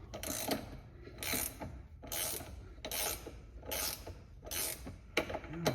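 Subaru BRZ steering rack bushing being driven in with an installation tool, a close repeating mechanical ratcheting grind in about seven bursts with short pauses between them.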